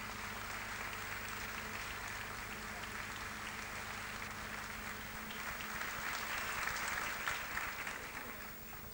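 Audience at a Eurovision-related awards ceremony applauding nine composers, a sustained dense wash of clapping from a large crowd, steady throughout with a slight swell before tapering.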